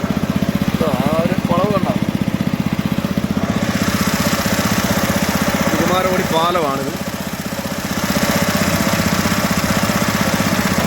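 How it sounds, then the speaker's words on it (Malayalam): A racing boat's engine runs steadily and loudly with a low, even throb, piloted by one man at the Kumaranasan Trophy boat race in Kerala near the Kumarakody bridge; someone talks over the drone. "ഇഞ്ചിൻ ഓടിക്കുന്നത് ഞാൻ തന്നെയാണ്"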